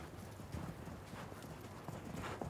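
Horses' hooves clip-clopping at an equestrian centre in Mougins, a steady uneven clatter of hoofbeats at moderate distance with faint background noise.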